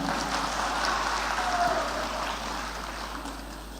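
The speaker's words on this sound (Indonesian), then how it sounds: "Tepuk tangan untuk Gibran." A political gathering's audience gives a round of steady, evenly textured clapping for Gibran that fades slightly toward the end and lasts a few seconds.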